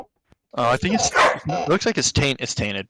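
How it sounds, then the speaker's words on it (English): A dog barks in short yapping bursts close by, mixed in with people talking loudly indoors. "that's the dog barking"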